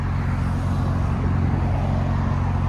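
A straight-piped Porsche Cayenne S with a 2.9L twin-turbo V6 gives a loud, close, deep engine drone that holds steady throughout with a heavy low rumble and no voices.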